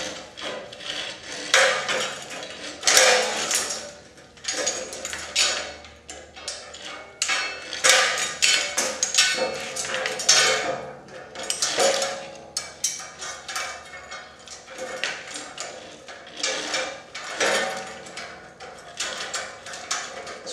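Metal and wooden parts of a trebuchet knock, click and rattle as a nut is threaded onto the axle during assembly, a close, irregular series of taps and ratcheting scrapes with no talking.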